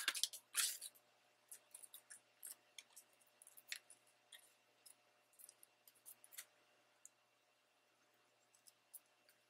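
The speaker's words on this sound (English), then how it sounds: "Trim that edge a little bit." Scissors trim the edge of a paper frame embellishment, sounding as a sparse run of faint, crisp snips and ticks, close and quiet, with one louder cut near the start.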